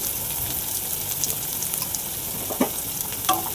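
Thick-cut cabbage stir-fried over a high gas flame for cabbage Manchurian, a steady close sizzle with a few sharp scraping clicks of the spatula near the end, and no talking.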